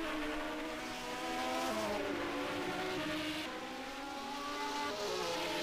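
Several engines in a 1974-season Formula 1 racing game snarl and whine continuously at high revs, pitch shifting up and down as the cars chase through corners, steady and close throughout.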